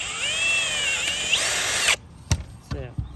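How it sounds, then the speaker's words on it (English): A power drill whines steadily while drilling out a hole in a San Juan 21 sailboat spreader base, then stops abruptly, followed by a few sharp knocks and clicks. "Let me drill this hole out"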